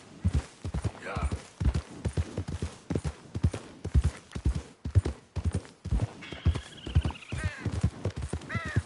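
In a PS4 video game, a horse's hooves clop in a steady, fast trotting rhythm, and a shrill whinny rises partway through as a voice speaks briefly.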